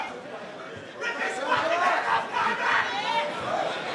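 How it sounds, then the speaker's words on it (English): Boxing-event crowd at the Eatons Hill Hotel shouting and cheering aggressively during the third round of a fight, a loud, sustained roar of overlapping voices close by, rising after the first second. "A bit of external support from the crowd in aggressive fashion"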